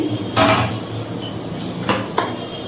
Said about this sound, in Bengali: ঢাকনাটা তুলে নিচ্ছি।